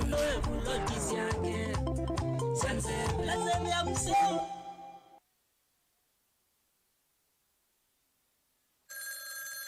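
A telephone ringing with a melodic ringtone that plays loudly for several seconds, cuts off into silence, then starts again briefly at the end.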